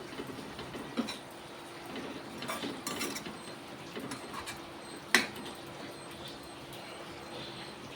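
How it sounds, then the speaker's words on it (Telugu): A metal lid set onto a cooking pot of goat liver curry with fried onions, giving one sharp clink mid-clip and a softer knock earlier, over steady kitchen background noise. "మూత పెట్టేద్దాం"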